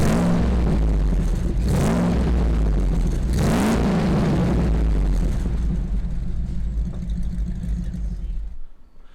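Truck engine fitted with aftermarket extractors and an exhaust system, a deep throaty rumble with two strong revs early on, then settling to a steady idle before cutting off.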